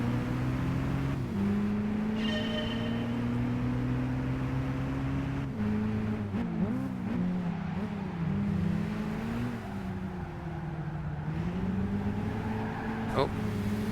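A Nissan Primera's engine in Gran Turismo 5 drones steadily, its pitch rising and falling through gear changes over a faint hiss, with a person talking over it now and then.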